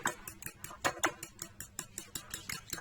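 A spoon stirs pastry batter made with yogurt, cream and an egg in a bowl, giving quick, steady rhythmic clinks and scrapes, close and distinct, with no talking.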